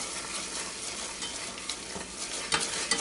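Warm cream poured slowly into hot salted caramel for a walnut pie, with the heat off and steady stirring, a continuous bubbling hiss with scraping strokes in the pan and a few louder spoon knocks near the end.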